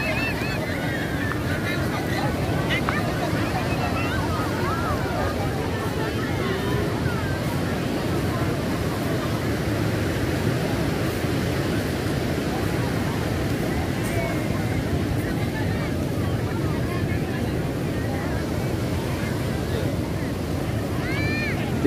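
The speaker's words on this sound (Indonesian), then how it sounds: "Kita menikmati ombak dari Parang Tritis, Pantai Parang Tritis" Steady roar of surf and wind across Parangtritis Beach, Indonesia, continuous and fairly loud, with low rumbling wash and gusty noise throughout.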